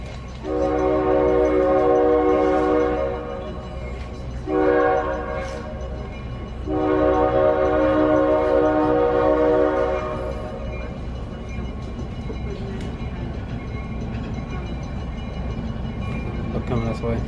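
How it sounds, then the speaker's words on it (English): A Conway Scenic Railroad train runs along the railway in New England in fall, sounding three long, loud horn blasts. A continuous rumble of wheels on the track rolls on beneath the horn and after it fades. "just enjoy the sounds of the railway as we make our way back into Conway Scenic Railroad"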